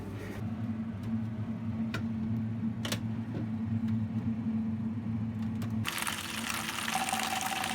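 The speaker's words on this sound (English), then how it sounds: "Okay, so we want to fill up maximum water now." A low hum with occasional ticks gives way to a steady rushing stream of water pouring into a container, the pitch rising slightly as it fills.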